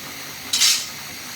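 A woman seated while cutting fish makes a single short, bright scraping swipe of a knife, close by and alone against a quiet background.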